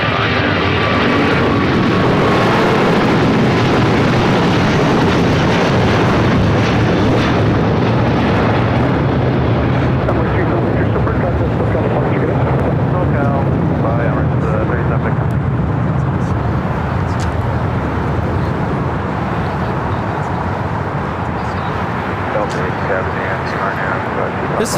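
An Emirates Airbus A380 takes off at LAX with a loud, sustained jet roar that builds and then slowly fades as the aircraft climbs away.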